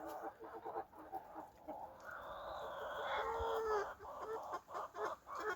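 Chickens cluck and murmur nearby, with a few sharper calls rising in the middle; the sound is soft and continuous.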